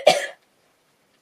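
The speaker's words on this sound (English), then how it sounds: "Oh, sorry about that. Coughing fit." A single close, harsh cough followed by near silence, then a faint brief sound at the very end.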